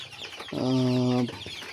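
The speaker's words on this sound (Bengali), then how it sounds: "এখানেও রয়েছে কিছু মুরগি" A chicken on a poultry farm gives one loud, sustained clucking call close by, with quieter background fowl noise.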